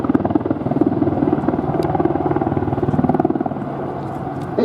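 A Westland Apache attack helicopter, a 10-ton aircraft, flies a display at the Duxford air show with a loud, steady rotor thump and engine roar that stays close and continuous, with no voices heard.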